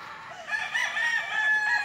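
Bulik gamefowl roosters crow at a breeding farm in Lipa, Batangas, one clear, fairly close, drawn-out cock-a-doodle-doo rising over quiet background.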